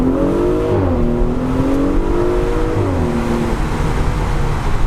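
An Audi SQ5 3.0L V6 TFSI engine revs hard and close in first gear, its pitch climbing and dropping between gears.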